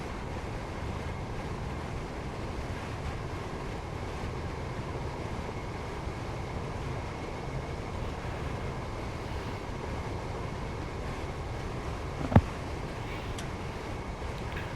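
Gatwick Express train in Train Sim World 3 rounding a curve: a steady low rumble and rushing hum that runs unbroken throughout, with one brief sharp click near the end.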